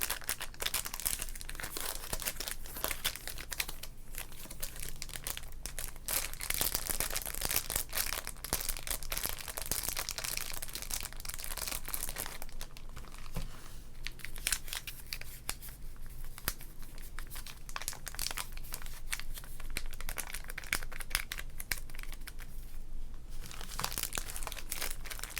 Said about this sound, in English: Will we open the bag of score?